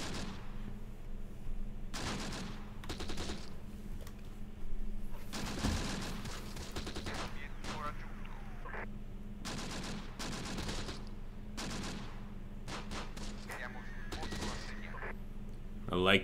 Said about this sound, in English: Like to see those guns going off.